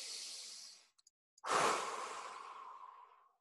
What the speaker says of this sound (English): let's take a deep breath for a moment.